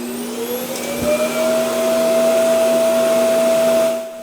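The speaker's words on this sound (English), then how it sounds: "it goes back to the dock to charge, but it also empties the dustbin, which is a bit louder" A budget robot vacuum's dock emptying its dustbin: a loud, steady motor whine that rises in pitch as it spins up, holds a constant drone, then cuts off abruptly, with no talking.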